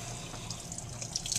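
Water runs steadily from a lab sink tap while glassware is rinsed free of soap, a constant close hiss with small splashy spikes.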